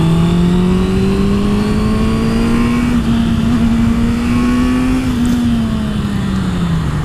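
Honda CB650F motorcycle pulling hard after a downshift, its engine droning steadily and rising in pitch, then easing slightly, loud and close with rushing wind throughout.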